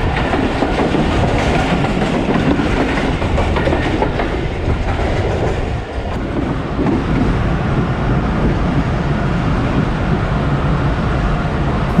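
The Shalimar Express runs on the rails out of Karachi and slows toward Drigh Road Junction, heard from on board as a loud, continuous rumble with faint clickety-clack and a brief dip midway.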